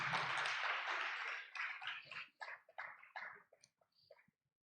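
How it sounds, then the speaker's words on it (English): Audience applause at a youth dialogue event, starting as a full burst and then breaking into scattered, thinning claps that fade out within a few seconds. "Another round of applause."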